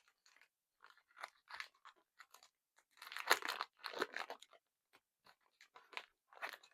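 Crunchy bites and chewing of a Milk Crunch Feastables chocolate bar, close and quiet, in irregular bursts of crisp crackling with short pauses and no talk.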